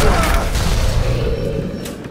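Gunfire in the first-person shooter BioShock, a dense burst of booming shots with heavy low thumps over roughly two seconds, loud and close, fading slightly toward the end.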